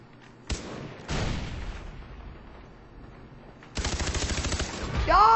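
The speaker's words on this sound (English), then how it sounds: "Throwing a grenade." Far Cry 3 multiplayer combat: sharp gunshots and a grenade blast punch in, followed by a rapid burst of automatic gunfire with reverberant booming tails, loud and close, with a rising whine of game effects at the end.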